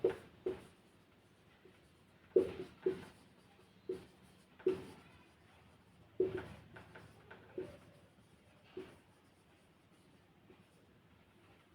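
A pen writes out the solution to an exam-style problem, heard as quiet, intermittent taps and short scratchy strokes separated by pauses in a still room.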